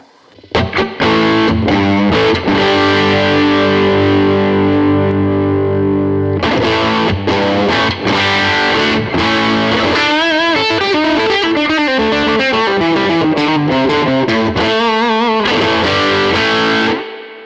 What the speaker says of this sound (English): Or I could keep it quite subtle and use my tube screamer.